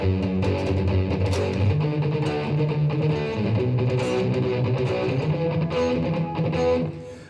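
Distorted electric guitar chords strummed in a driving rhythm, loud and close, with no talking over them.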